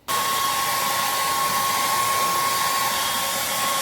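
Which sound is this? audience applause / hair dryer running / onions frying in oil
hair dryer running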